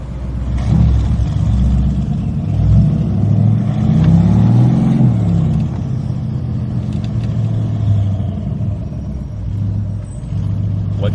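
A loud AMG car engine rumbles while driving through London, with repeated revving swells and deep throaty surges throughout, close and continuous.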